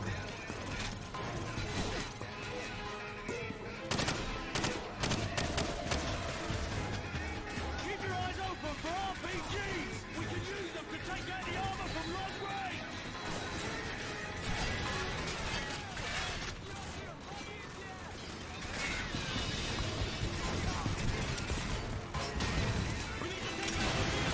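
Gunfire and a tank exploding in the video game Call of Duty 4: Modern Warfare, with dense crashing blasts and bursts of shots running continuously and loudly throughout, while someone talks over the action.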